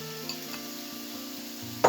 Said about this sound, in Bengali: আমি নেড়ে নিচ্ছি।